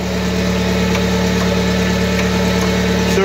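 A 1994 Huskee lawn tractor engine runs close by at a steady, loud, vibrating idle with no change in pitch and no talking.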